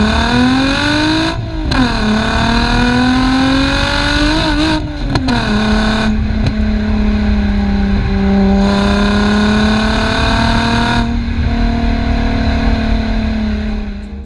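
A Volkswagen Corrado VR6 engine with a decatted exhaust idles and revs with a deep, raspy exhaust note, the pitch climbing and dropping through several throttle blips, loud and close.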